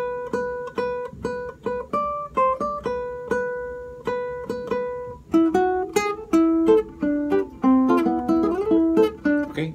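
Guitar picking out a phrase, with clear plucked single notes in a lilting melody that moves into fuller, busier strummed notes in the second half, close and alone with no talking.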